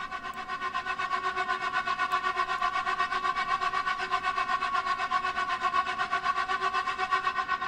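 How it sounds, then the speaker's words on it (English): A sustained synth texture treated with delay, reverb and auto-pan holds one steady pitch, its volume fluttering in a fast even pulse throughout, moderately soft and alone. "I put an auto pan on this one as well, so this is going to give it a little bit of a volume flutter"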